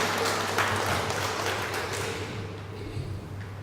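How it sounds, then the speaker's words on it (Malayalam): A retreat congregation claps together in thanks to the Lord, a broad, dense wash of applause that holds steady and then slowly thins toward the end, with no voices over it. "ഓക്കെ, അപ്പം നമുക്ക് കർത്താവിനൊന്ന് കൈയടിച്ച് നന്ദി പറയാം."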